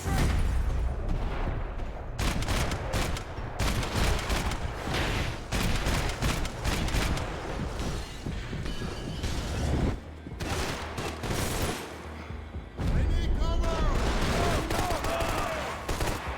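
Dense bursts of rapid gunfire and booming shots fill a firefight in the video game Max Payne 3. Loud, near-continuous volleys come with brief gaps, and voices shout intermittently.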